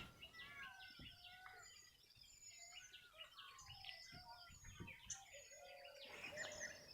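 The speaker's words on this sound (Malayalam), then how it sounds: "മയിലും കുയിലും മറ്റ് പല കിളികളും നേരത്തെ എണീറ്റ് ശബ്ദം ഉണ്ടാക്കുന്നുണ്ട്" Peacocks, cuckoos and other birds call in the early morning around a treehouse, a faint, distant tangle of chirps and whistles with scattered sharper calls throughout.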